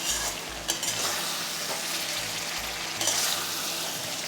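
Chicken drumsticks cook with spices in a pan as they are stirred and sautéed. A continuous sizzle runs under repeated scraping stir strokes, close and fairly loud, and a low hum pulses in the background.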